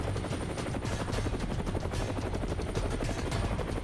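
Steady, loud helicopter rotor noise on a medical evacuation flight at Siachen, with a dense, rapid low thumping throughout, close and continuous.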